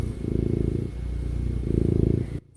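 A male cat purring steadily and close by, a low rhythmic rumble in two long swells with a brief pause between, ending abruptly in near silence.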